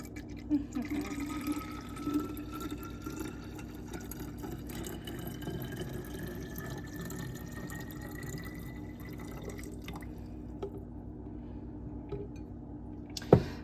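A green drink is poured carefully into a bottle, giving a steady, soft trickle of liquid filling it over several seconds, close by, with small drips and a brief clunk at the end.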